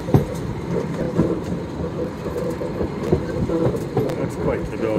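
A train rolls along rails as it pulls into a station, a steady rumble with rhythmic wheel clicks and occasional thumps heard from inside a carriage, with faint voices in the background.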